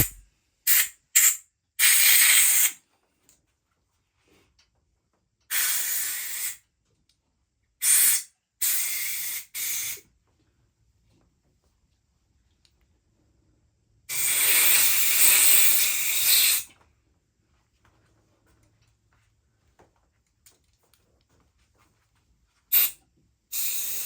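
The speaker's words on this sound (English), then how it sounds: "so I will use the compressed air" Compressed air blasts in short hissing bursts while Domino grips are fitted onto an Aprilia RS660 Factory handlebar. One longer spray sits among several quick ones, with silent gaps between them.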